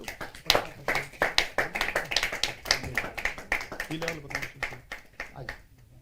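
An audience at a Hindi poetry open mic claps in a busy, uneven patter that thins toward the end, while a voice speaks over the applause.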